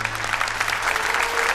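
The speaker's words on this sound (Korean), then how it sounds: "네, 큰 박수 부탁드리겠습니다." Applause at an award ceremony in a Korean drama, as a woman is called up to receive a prize for charity donations; dense, steady clapping fills the whole short stretch at moderate loudness with no voices over it.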